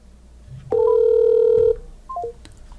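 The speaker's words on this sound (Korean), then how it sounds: "CWS 연락처로 전화를 걸게요." A smartphone places a call through the Bixby voice assistant. A loud, steady tone lasts about a second, followed by a short descending three-note electronic chime, with no talking.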